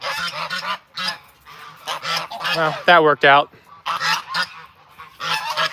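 A goose at an animal sanctuary honks in loud, close, repeated blasts, one long wavering call standing out midway, with a person talking in between.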